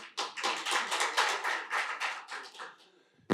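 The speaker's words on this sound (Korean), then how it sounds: "교수님께 박수 부탁드리겠습니다" Audience members at a policy forum on the AI rivalry clap for a professor about to open the discussion: a brisk run of distinct, fairly close handclaps that thins and fades near the end.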